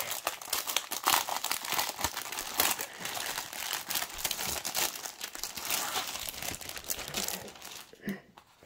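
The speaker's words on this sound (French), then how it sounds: "Je peux finir par ouvrir le paquet" Plastic packaging of a cross-stitch kit being opened, with continuous close crinkling and crackling plus some tearing, busy and loud throughout before easing off at the end.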